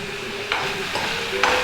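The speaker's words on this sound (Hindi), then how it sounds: "अब इसको अच्छे से भून लिया जाए।" Sanwa millet stirred and roasted in a pan for kheer, a soft continuous sizzle with a few scraping strokes of the spoon, close up.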